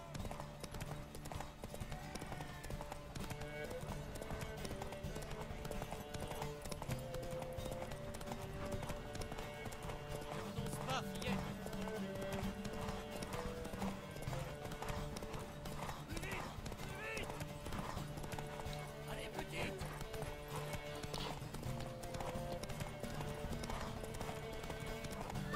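Rhythmic hoofbeats of a galloping horse in The Witcher 3 clatter steadily over a music score, with occasional voices and snorts.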